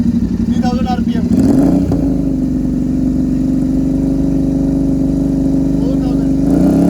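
Royal Enfield Continental GT 650 with an aftermarket 2-into-1 exhaust, DB killer removed, revs briefly up to about 3000 RPM, then holds a loud, close, throbbing drone.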